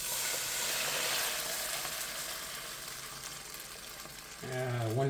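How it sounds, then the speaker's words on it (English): Beef broth mixture poured into a hot pan of Salisbury steak sizzles steadily at close range, a sharp hiss that fades gradually before a louder burst of bubbling and frying near the end. "the beef broth's going to go in right on top"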